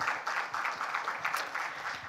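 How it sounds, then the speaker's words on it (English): An audience at a teen award gala in Nepal claps in a short, fairly faint burst of applause that holds steady throughout. "So a big round of applause to all the 648 applications"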